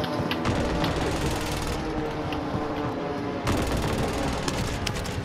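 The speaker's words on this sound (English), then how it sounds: "Be advised, friendly precision airstrike inbound." A friendly precision airstrike in a shooter game pounds in with loud, continuous explosive rumble and crackling bursts, layered with gunfire, a brief dip in the middle before the barrage resumes heavily.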